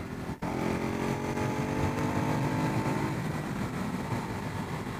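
A Ducati Hypermotard SP motorcycle engine hums steadily while riding at around 60 and 4,000 RPM, a close, continuous drone with faint rising pitch and no talk.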